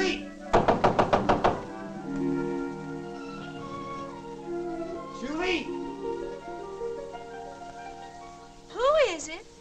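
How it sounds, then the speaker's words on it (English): Heavy knocks bang on a lady's door in a rapid burst of about six blows early on, then a voice calls out in raised, sung-like tones over a quiet background. "Banging on a lady's door."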